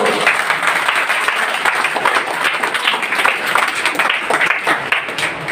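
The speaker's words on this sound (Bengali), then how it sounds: "জোরদার হাততালি হয়ে গেল" An audience at a Vestige business presentation breaks into loud, sustained applause, a dense wash of many hands clapping steadily and evenly for several seconds without a break.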